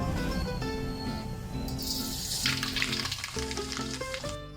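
Mustard seeds splutter in hot coconut oil, a steady loud sizzle with bursts of crackling popping near and close throughout, with no voices.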